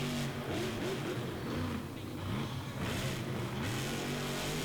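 Monster truck Overboard, driven by Jamie Gardner, revving its engine in the Fiserv Forum arena in Milwaukee during a freestyle run, with repeated rising and falling revs under a roaring, echoing arena din.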